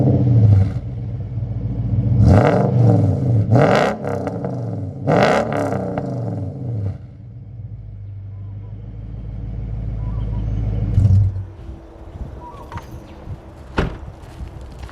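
A Toyota 100 Series V8 Land Cruiser starts up and revs hard, sending deep rumbling blips that rise and fall, then settles into a loud, low idle with a final sharp revving surge, close by.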